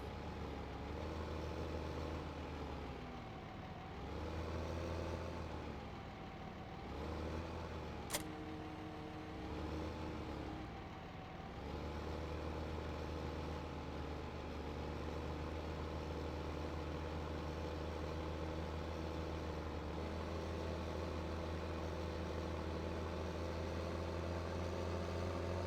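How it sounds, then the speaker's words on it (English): A small T7 tractor in Farming Simulator 15 idles with a steady low engine hum, heard alone with a few brief revs early on and a short click midway. "Oh, T7. Seems like a small tractor."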